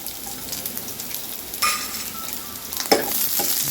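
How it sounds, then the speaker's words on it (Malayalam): Sliced shallots frying with ginger in hot oil, a bright continuous sizzle close by, with a few sharper crackles and spatula scrapes as they are stirred. "ഇത് നല്ലോണം ഒന്ന് ബ്രൗൺ ആവണ വരെ വറക്കണം, മൂപ്പിച്ചെടുക്കണം."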